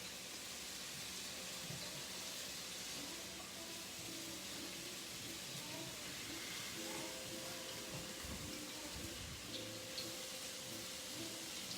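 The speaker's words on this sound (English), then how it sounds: "y'all hear that sizzle on here?" Food sizzles in a frying pan while Southern Sunday dinner is cooked, a quiet, steady hiss with faint crackles and pops running continuously, with no talking.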